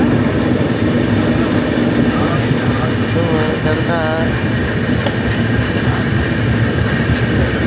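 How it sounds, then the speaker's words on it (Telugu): A train pulling out of Bengaluru railway station, its steady broadband rumble and rail noise filling the clip with faint squeals midway, while a voice speaks briefly over it. "ఓ బెంగళూరు నుంచి స్టార్ట్ అయింది ఫ్రెండ్స్ ట్రైన్ అదే రైల్వే స్టేషన్లో నుంచి సో ఇప్పుడే స్టార్ట్ అయింది"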